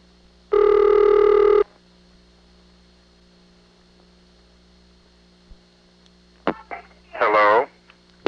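A telephone ring sounds once over a steady mains hum during a call transfer, followed by a few short clicks and a burst of brief tones near the end.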